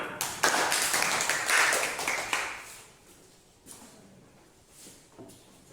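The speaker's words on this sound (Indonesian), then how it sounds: "Silakan tepuk tangan." A short burst of scattered clapping from a small group of schoolchildren in a classroom, dense for about two seconds and then thinning to a few claps before fading.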